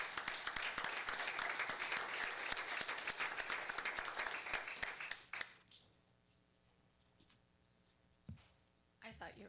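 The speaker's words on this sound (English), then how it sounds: "give her a round of applause for her nomination and acceptance" A council meeting audience gives a brisk round of applause lasting about five seconds, then it cuts off into a quiet room with faint rustling and a brief bump.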